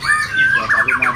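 Murai (white-rumped shama) songbird singing close by, a quick run of bright whistled and squawky phrases with rising and falling sweeps.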